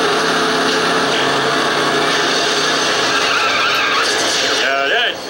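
A car in a video game skids and slides, with a loud, sustained engine whine and tyre scrubbing, ending in a short squeal, with speech mixed in underneath.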